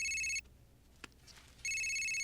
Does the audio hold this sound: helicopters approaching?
no